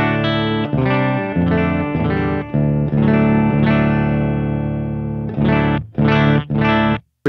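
A Les Paul electric guitar played through a Helix Cali Texas clean channel, giving bright, sparkly sustained chords and notes, several strummed phrases ringing out, then short choppy stabs, loud and up close with no talking.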